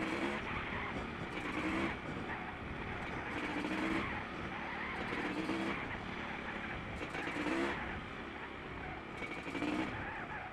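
Honda CR500R and CRF450R motocross bikes accelerating side by side, their engines rising and falling in a series of revving surges, fairly distant and steady throughout.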